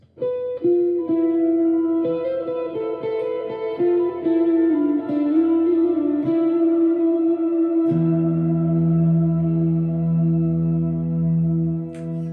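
Sustained, shimmering electric guitar tones through a Neural DSP Quad Cortex "Icicles" ambient patch, with long echoing tails, layered notes ringing out and blending, shifting to a lower droning chord partway through.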